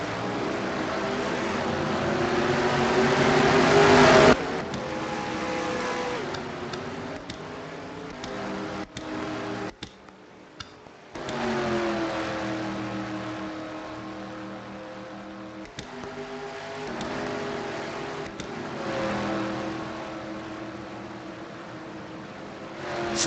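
Dirt race cars at Langehorn Speedway run a steady, continuous engine roar as they circle the track behind the pace car, with one sharp drop and brief dropout partway through before the drone resumes.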